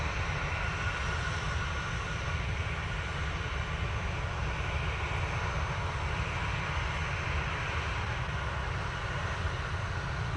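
A KLM Boeing 737 airliner arrives at Manchester Airport, its engines giving a steady, moderately distant rumble and whine that holds evenly throughout without talk.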